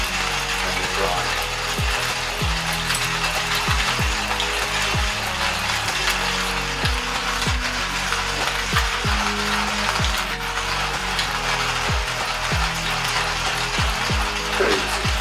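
A manual coffee grinder is cranked to grind beans for a Spector espresso machine, giving a continuous dense grinding rasp with steady rhythmic ratcheting clicks from the turning crank throughout, close and fairly loud.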